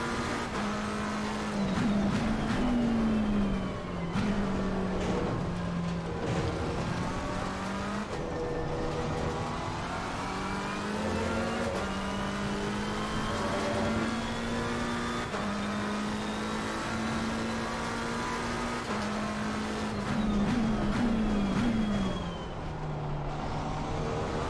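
Race cars in the sim racing game Assetto Corsa Competizione roar steadily through shifting revs and upshifts, with engine pitch climbing and dropping as other cars pass close by over about twenty-five seconds.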